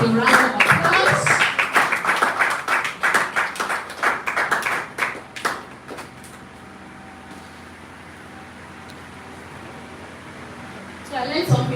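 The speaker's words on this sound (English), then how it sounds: "Let's honor him with a round of applause." A summit audience gives a round of applause for a speaker: loud, dense clapping for about five seconds that thins into scattered claps and then room quiet, with a brief burst at the end.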